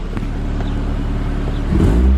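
Exhaust of a 30-year-old 1990 Toyota Sera with a five-speed manual, a close, steady low engine rumble at the tailpipe that swells briefly as the engine revs near the end.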